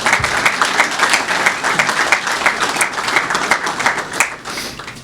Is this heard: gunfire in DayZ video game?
no